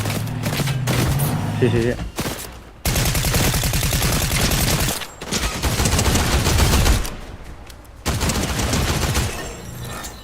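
Rapid bursts of automatic gunfire in the video game Fortnite, loud and close, firing in several long volleys with brief pauses between them, while a player speaks briefly over the shooting.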